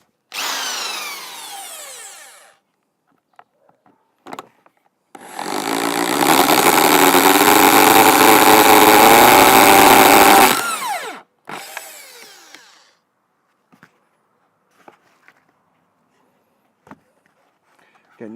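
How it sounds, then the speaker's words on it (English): Power drill boring a hole for a strawberry wicking bed, a long steady whirring run of about six seconds between shorter bursts and clicks, close and loud. "I'm going to drill a hole here"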